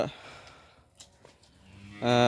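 A Holstein Friesian heifer on a dairy farm in Pabna lets out one loud, close moo at the very end, after a quiet stretch with faint barn noises.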